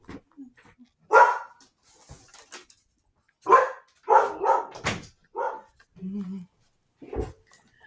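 A startled dog barks in several sharp, separate bursts indoors, with brief pauses and a short low whine between barks, close and fairly loud.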